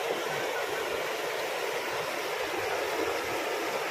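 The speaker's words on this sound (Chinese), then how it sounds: "所以喷出来的水非常多" Spring water gushing into the Jinan city moat, pouring over a wide water curtain with a loud, steady, unbroken roar close by, no voices.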